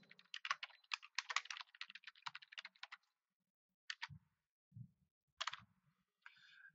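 Keys tapped on a computer keyboard while a name is entered into a search setup form, a quick close burst of clicks followed by a pause and a few scattered taps.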